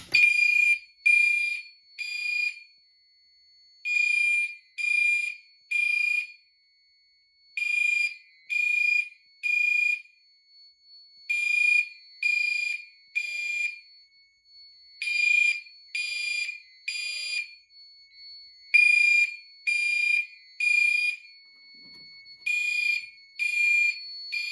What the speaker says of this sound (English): All signals are set to Gentex sync, with the horns set to 2400 Hz temporal.